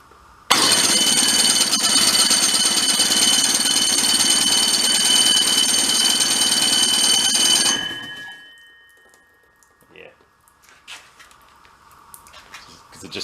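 A Rockwell engine with fuel flooding its crankcase is cranked in a loud, continuous buzzing burst that runs for several seconds, then winds down abruptly, leaving near quiet with a few faint knocks and clinks.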